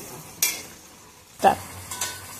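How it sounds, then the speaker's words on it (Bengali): Muri ghonto being sautéed and stirred in a pan, with a few distinct scraping strokes of a utensil against the pan over a quiet low sizzle. "একটু ভালো করে কষিয়ে নিতে হবে"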